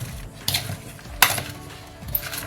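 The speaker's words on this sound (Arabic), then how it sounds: "نقلبهم مع بعض" Carrots and cabbage being stirred together in a pan, with a few close metallic clinks and scrapes of the utensil against the pan spaced over a couple of seconds, with no voices.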